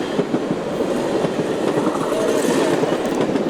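N&W 611 rolls past a railroad crossing, its cars giving a steady rumbling clickety-clack of wheels on rail joints, close and continuous for a few seconds.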